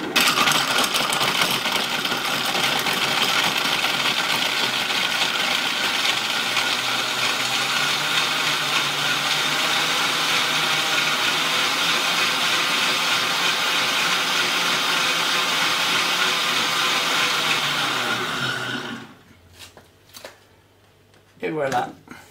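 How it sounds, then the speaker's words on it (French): Blender crushing ice cubes for a granita, a loud continuous grinding whir with rattling ice that runs about eighteen seconds, then cuts off, followed by quiet handling noises. "Je vais fermer tout ça et je vais mixer."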